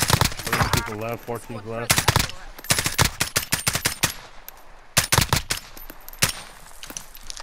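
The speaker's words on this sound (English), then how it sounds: "They're shooting at me" Video game gunfire with sharp, loud bursts of rapid shots and single cracks scattered throughout, close and punchy, while a voice briefly speaks over the opening shots.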